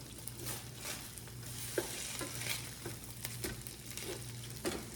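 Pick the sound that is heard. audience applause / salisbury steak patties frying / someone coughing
salisbury steak patties frying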